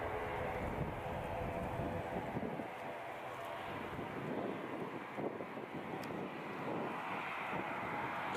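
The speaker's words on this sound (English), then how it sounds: "Qatar Airways Dreamliner to my left." A jet airliner, apparently a Qatar Airways Dreamliner, rumbles at Edinburgh airport, a broad distant engine roar mixed with wind buffeting the microphone.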